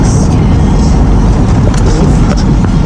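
A car rolls steadily along a rough, bumpy road, its constant low engine and tyre rumble loud and close, with faint rattles of the cabin and no talk.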